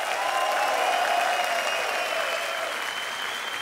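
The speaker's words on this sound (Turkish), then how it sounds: "Hanımefendiye ayrı bir alkış alalım." Studio audience on a Turkish television talk show applauds loudly and continuously, a dense even roar of clapping that holds steady throughout.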